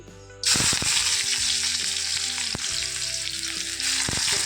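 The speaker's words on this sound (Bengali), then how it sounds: "খুবই গরম হয়ে গেছিলো তেল মধ্যে আমি দিয়ে দিলাম পেঁয়াজ" Chopped onion drops into very hot oil for chowmein, setting off a sudden loud, close sizzle that keeps roaring steadily after the initial burst.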